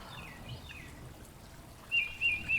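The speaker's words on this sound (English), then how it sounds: "So this is only the water and the birds." Faint trickling water runs steadily while a bird chirps a few quick calls near the end.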